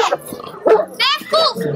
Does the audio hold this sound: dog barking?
yes